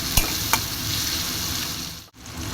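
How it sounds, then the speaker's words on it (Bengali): Salted onion, capsicum and tomato fry in a pan with a steady, close sizzle, broken early by two sharp clinks of a stirring utensil. "নুনটা দিলে সবজিটা নরম হয়ে যায়।"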